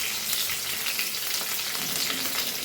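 Green chilies fry in a pan over a low flame, giving a steady, close sizzle with soft crackling that runs the whole time and no talking.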